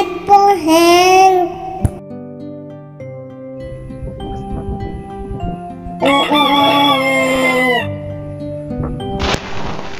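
A rooster crows twice, loud and close, with long drawn-out calls separated by a pause, over a low background hum.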